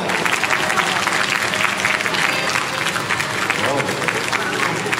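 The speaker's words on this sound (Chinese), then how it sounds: "再次的热情掌声，谢谢他们带给我们这场那么棒的 fashion show" An audience claps steadily after a student fashion show, a dense, loud wash of applause that holds for the whole stretch, with talk running over it.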